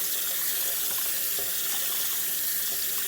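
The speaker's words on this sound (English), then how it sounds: "And then rinse it again." Running tap water pours steadily into a sink while a paint brush is rinsed beneath it, a close, continuous hiss with no talk.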